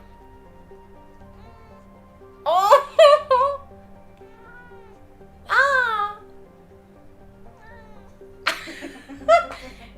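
A cat meows several times in short, loud, wavering bursts spread across the stretch, with brief exclamations from people and quiet room tone between the calls.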